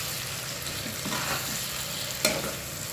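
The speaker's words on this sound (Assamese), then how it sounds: "বিলাহীখিনি এনেকৈ 5-10 মিনিট ভাজি থাকিম" Two chopped tomatoes fry in a pan for an Assamese-style pork curry, giving a steady close sizzle with occasional stirring scrapes and one sharp clink near the end.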